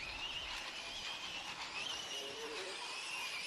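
Scraping and skidding of RC cars at a European 1/8 GT electric championship qualifying session, bodies dragging on the track as they turn, heard as a steady, dense wash of tyre and body noise with motor whine throughout.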